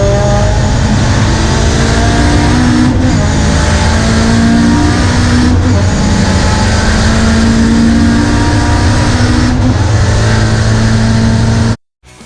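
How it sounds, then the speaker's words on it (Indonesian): A Nissan SR VVL engine runs loud and close with a steady high-revving drone held at roughly constant pitch, a few brief dips, then cutting off abruptly at the end. "Mesin ini adalah Nissan SR VVL."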